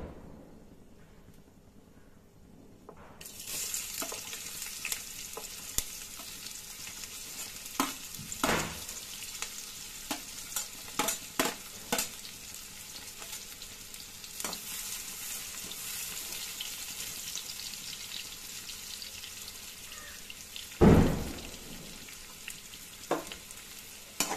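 Onions added to a pan for a chicken gravy crackle into a steady sizzle after a quiet start, with scattered stirring scrapes and one louder clatter near the end, close up.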